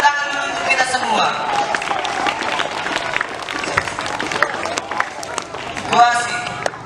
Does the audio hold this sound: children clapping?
yes